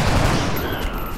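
Weapon fire in the turn-based strategy game XCOM: Enemy Unknown, a loud burst of gunshots filling the whole short moment with no talk over it.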